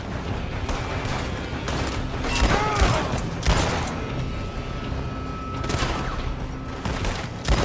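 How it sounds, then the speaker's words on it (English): Rapid gunfire from a building in Red Dead Redemption 2, with repeated loud shots and bursts crackling across the scene over a steady background din, with no speech. "They're shooting from that building!"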